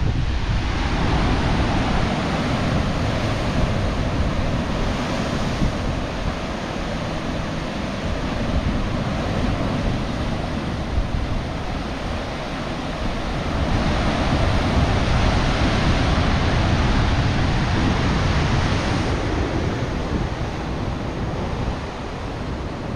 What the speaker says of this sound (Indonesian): Di sini baru angin terasa bertiup cukup kencang.